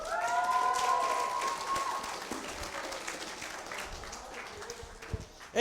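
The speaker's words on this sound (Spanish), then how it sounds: "¡Un aplauso!" Audience applause at a youth church conference, a dense wash of clapping that is loudest at the start and then gradually thins and fades over several seconds, with faint voices beneath.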